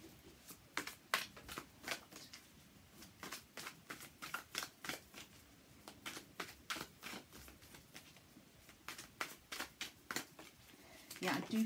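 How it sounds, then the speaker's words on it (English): Tarot cards being shuffled close by in a steady run of crisp riffling bursts, repeated at an even pace through the stretch, fairly quiet with a faint voice in the background. "We'll shuffle the cards once again."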